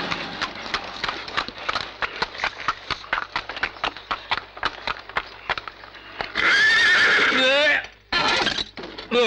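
A mare trots with a steady, rapid clip-clop of hooves and then lets out a loud, close whinny that wavers for about two seconds, breaks off briefly and then resumes.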